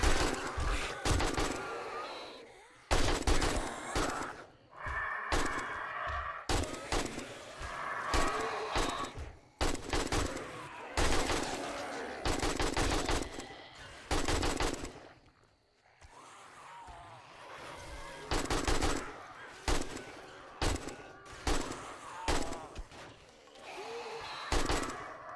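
Bursts of AK rifle fire in the survival game 7 Days to Die, loud and close, in rapid volleys broken by short pauses across the stretch, with other game sounds and a voice briefly in between.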